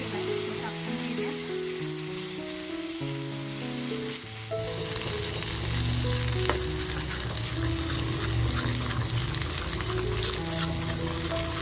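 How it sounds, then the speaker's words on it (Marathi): Kolhapuri white rassa masala frying in a pan, a steady loud sizzle with stirring throughout, growing denser and more crackly partway through, with no talk over it. "तर बघा मसाला आपल्याला छान असा फ्राय करून घ्यायचा आहे"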